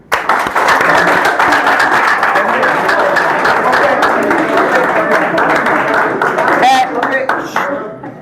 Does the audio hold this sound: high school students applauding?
yes